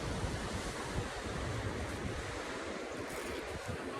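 Sea waves wash ashore at the historic Hastings seaside, a steady close roar of surf mixed with gusting wind buffeting the microphone throughout.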